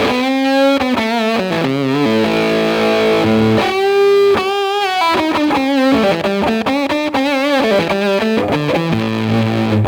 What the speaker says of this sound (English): if I do it, like resting the hand on the bridge, it sounds like this